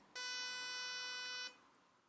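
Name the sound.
pulse train tone generated by a MicroBlocks board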